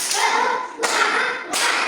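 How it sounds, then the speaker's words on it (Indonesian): A classroom of children claps out the rhythmic "tepuk semangat" chant, with three sharp, loud group clap bursts spaced evenly and ringing briefly in the room. "Lagi, satu kali lagi. Tepuk semangat."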